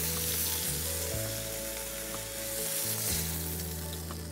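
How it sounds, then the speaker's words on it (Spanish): Hake heart pieces browning on all sides in hot oil in a frying pan give a loud, continuous sizzle over a low background hum, with no voices. "Vamos a dorar las cuatro caras de los corazones de merluza."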